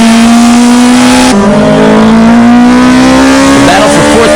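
A loud, close race car engine drones at steady high revs during a race, its pitch stepping down at a gearshift and then climbing steadily again, with an announcer talking over it.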